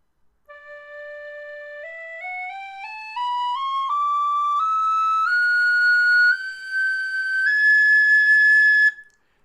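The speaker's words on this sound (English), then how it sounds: "I tried all the high D whistles I have too." A Wild Irish high D tin whistle plays a rising stepwise scale of clear, pure tones, each note held briefly and climbing into the upper register before a long sustained top note, loud and alone with no talking.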